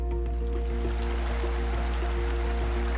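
A waterfall pours into a pond inside Biosphere 2's indoor rainforest, a continuous even rush of water with a low steady hum underneath and no voices.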